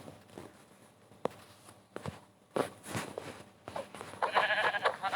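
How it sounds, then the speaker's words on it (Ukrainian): Footsteps crunch along in a video game, followed by a short, wavering sheep bleat near the end, moderately loud against quiet background. "Вівця."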